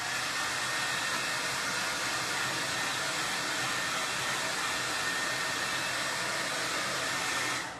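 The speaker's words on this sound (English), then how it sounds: "I'm gonna go ahead and just hit it real quick with the blow dryer" A hair dryer blows steadily and loudly close up, a constant broadband whoosh with no pauses or voices.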